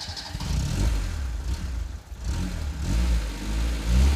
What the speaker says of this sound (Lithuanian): Bet kaip garsas pasikeitė mašina.